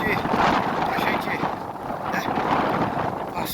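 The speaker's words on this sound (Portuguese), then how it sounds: "passar o vento agora. Passar esse vendaval." Strong gusting wind roars across a lake during a tilápia fishing trip, a steady broadband rush buffeting the microphone with surges and dips, loud and close, with no talk heard.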